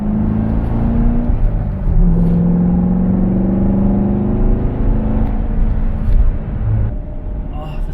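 A Chevrolet Corvette C7 Grand Sport sports car drives along rural back roads, its engine a steady loud drone with tonal shifts as it changes pace, alongside another sports car, with continuous road rumble throughout and no clear talk.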